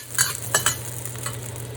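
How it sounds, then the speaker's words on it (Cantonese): Ginger and garlic hit a hot wok for a Chinese broccoli stir-fry with preserved meats, crackling softly while a spatula gives three quick scrapes and taps over a low steady hum. "起鑊用啲薑蒜爆下"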